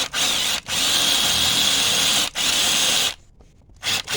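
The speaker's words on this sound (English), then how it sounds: "you're going to drill a hole right here" A power drill bores a hole into a portable garage frame, running with a steady high whine broken by several brief pauses, then stopping near the end.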